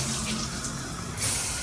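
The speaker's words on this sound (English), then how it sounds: "the only thing we don't like about the room is the shower head. It's a little bit dingy and older, and when you cut it on" An older, dingy hotel shower head in an Embassy Suites room sprays water in a steady close hiss that surges briefly louder near the end.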